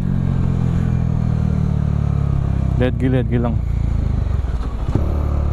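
Bajaj Dominar 400 motorcycle riding through traffic, its steady mid-pitched engine drone continuous and close throughout, with someone briefly talking over it midway and a short clatter near the end.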